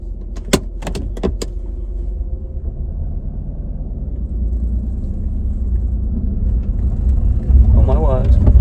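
A car that has repeatedly broken down pulls away in first gear, its engine a loud, close rumble that climbs gradually as it gains speed, with a few sharp clicks and rattles at the start.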